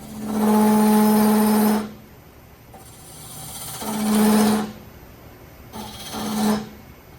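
Wood gouge cutting a notch into a turned vessel spinning on a lathe, three separate scraping cuts with a steady tonal hum, the first long and loud, the next two shorter, with quieter gaps between.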